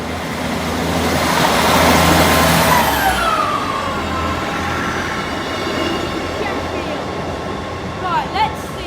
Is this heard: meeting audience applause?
no